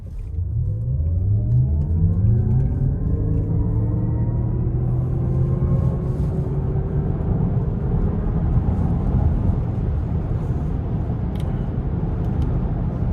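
Cadillac Optiq rear-wheel-drive electric car floored from a steady cruise, its motor whine rising steadily in pitch over continuous road and tyre rumble, loud and close from inside the cabin for the whole stretch.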